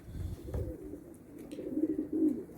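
Male pigeon cooing among female pigeons, low, rolling coos close by that come in a few swelling phrases, with no talk.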